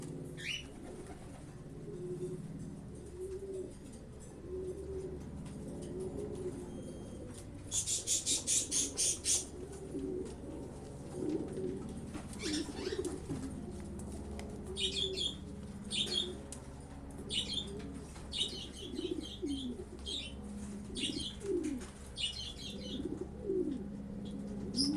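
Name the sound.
racing pigeons cooing and flapping wings on arrival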